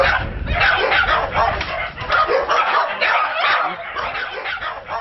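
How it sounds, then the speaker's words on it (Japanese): Many dogs bark, yip and whimper loudly together in the yard of a Saitama house crowded with dogs, a dense, continuous chorus of overlapping voices close by. "庭で大きな鳴き声を上げる何匹もの犬。"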